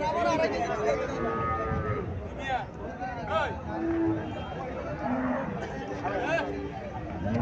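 A Haryana-breed cow and her calf mooing a few times, the drawn-out bellows rising over a steady bed of crowd chatter and nearby voices.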